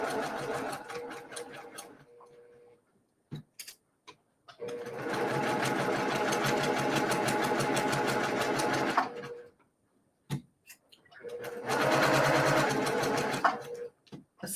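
A sewing machine stitches a quilt block in several long bursts of fast rhythmic whirring. Short pauses and clicks come between the runs.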